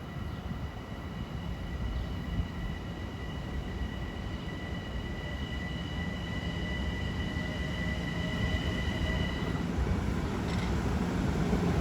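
A Long Island Rail Road train, likely an M9 electric multiple unit, rumbles past at Kew Gardens in a loud, steady roar with faint high-pitched wheel whine over the full stretch, and no talk.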